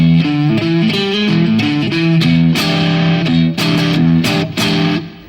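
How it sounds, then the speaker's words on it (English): An O.G. Hellwig electric guitar on the front pickup with the coil split plays a bluesy phrase through amplifier distortion, loud and alone, with short ringing notes and bends in a loose rhythm. "And now I've got more of a bluesy sound out of the guitar."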